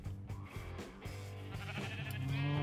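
Sheep in Minecraft bleat close and loud, a few wavering overlapping bleats running continuously over a steady background, growing stronger toward the end.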